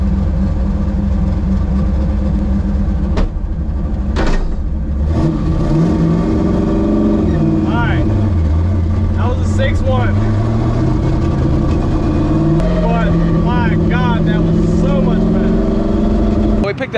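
Drag racing car engine breaking up and stuttering during a run, loud and close with rough revving that surges and dips, voices talking over it throughout.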